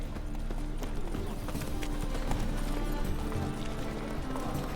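Roach the horse galloping in The Witcher 3, steady rhythmic clip-clop hoofbeats at a fast run, up close and continuous over background game ambience.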